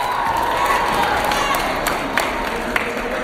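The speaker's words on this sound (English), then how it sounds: "Let's give another round of applause for Meek Mill." A live crowd at a community event in a rec center applauds and cheers for Meek Mill, a steady wash of clapping and shouting with a few sharper claps standing out near the end.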